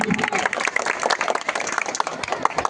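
A crowd applauds the man of the match, Faruk, at a football match awards ceremony. A dense, steady patter of clapping runs throughout, with voices heard beneath it.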